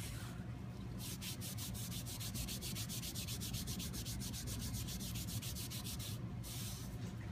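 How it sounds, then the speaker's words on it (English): A cotton rag rubbing excess white wax off a maple table surface, a steady close scrubbing sound with quick rhythmic back-and-forth strokes, quiet and without talk. "I'm just gonna come and rub off any excess."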